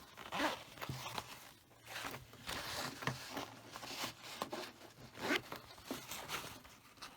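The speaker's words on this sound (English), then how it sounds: "See if I can unzip it here." A zipper on a handmade coin purse is unzipped in short rasping pulls, a few quick tugs with brief pauses and light fabric rustle between them, fairly close and alone.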